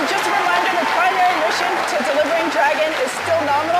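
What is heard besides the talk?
crowd cheering and applauding at SpaceX mission control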